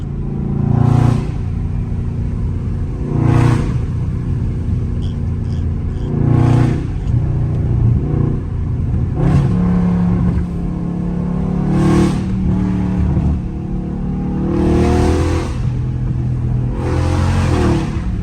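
A Scat Pack car engine revs hard and climbs repeatedly, dropping between surges as it shifts through first, second and third gears in the rain, loud and close throughout.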